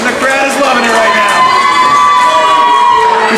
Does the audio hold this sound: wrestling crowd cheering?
yes